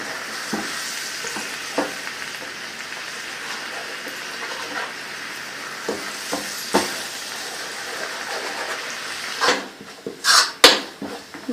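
Brown sugar melting and sizzling in a pan over a high flame for a caramel sauce, with a steady close frying hiss, occasional stirring scrapes and a few louder clanks of utensil against the pan near the end.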